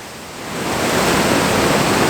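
Waterfall pouring into a river of churning white water, a steady broadband roar that swells slightly after the first half second and then holds loud and constant, with no voices.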